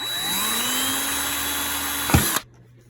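A drill bores a small hole in the plastic of a Keurig coffee machine, a close, steady whirring whine that ends with a brief surge as the bit breaks through before the motor stops.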